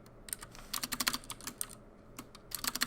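Someone types on a computer keyboard while writing Java code, with quick bursts of crisp key clicks separated by short pauses, close and clear with no talking.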